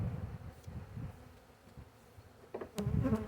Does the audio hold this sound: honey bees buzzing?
yes